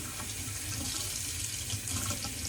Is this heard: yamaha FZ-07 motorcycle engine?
no